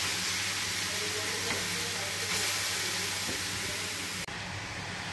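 Carrots for gajar halwa frying in ghee in a kadhai, a steady broadband sizzle holding evenly throughout with a low hum underneath and a brief click near the end.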